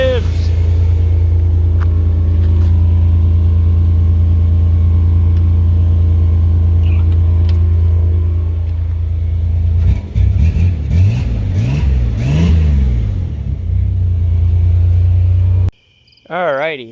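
A Mini's engine idles with a loud steady low rumble, revs several times in rising and falling surges, then cuts out abruptly before a brief final burst.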